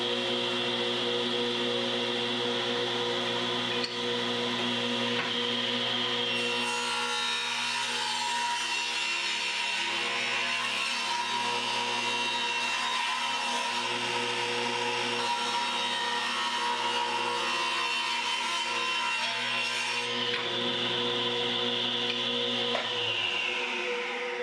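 A table saw rips a 1x4 board with a loud, steady high whine that runs unbroken for about twenty seconds and then spins down near the end. No one talks.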